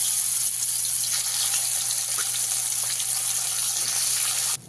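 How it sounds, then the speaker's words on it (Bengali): Koi fish fry lightly in hot oil, giving a steady close hiss of sizzling that runs unbroken at an even loudness and cuts off at the end, with no talk. "এভাবে একই পদ্ধতিতে বাদবাকি মাছগুলো আমি সব ভেজে নেব"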